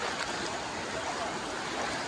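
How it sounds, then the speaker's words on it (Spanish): Steady broadband rush of clear river water swirling around a person wading through the middle of the stream, continuous and close with no voices. "Yo ahora mismo voy por el medio del río."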